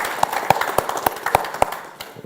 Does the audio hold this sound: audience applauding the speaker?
yes